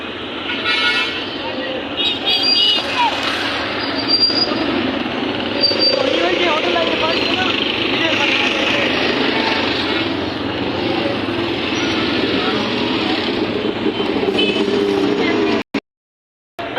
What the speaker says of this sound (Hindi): साइकिल रिक्शों में बाहर चौकीदारों के पास माल लेके जा रहे हैं और ये गाड़ियाँ अंदर से मार्केट के अंदर से माल लेके बाहर की तरफ आ रही हैं।